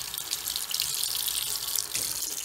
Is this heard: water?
yes